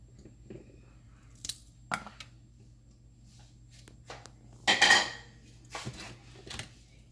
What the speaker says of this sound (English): I'm just going to cut some garlic in half